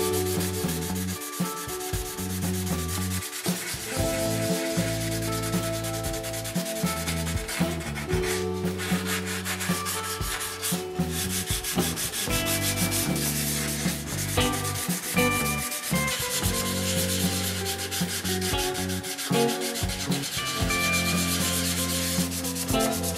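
Sanding by hand on a Wenge wood guitar body for a Firebird-style build, a steady, continuous abrasive rubbing that keeps going throughout at close range, with no talking.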